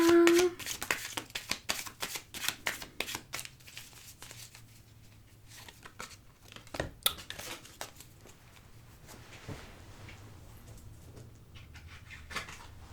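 Tarot cards are cut and shuffled by hand, giving a rapid run of close, crisp riffling and slapping bursts that thin out into scattered softer card taps and rustles.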